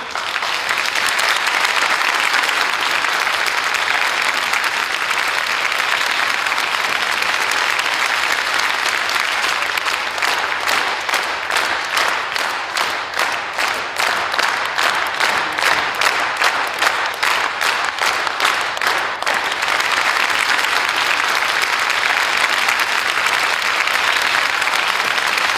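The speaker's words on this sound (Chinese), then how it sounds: "下面让我们以热烈的掌声欢迎沈岩上台领奖，" Loud, sustained applause from an audience welcoming an award winner to the stage rolls on without a break, with a stretch of rhythmic, near-unison clapping in the middle before it loosens back into a dense ovation.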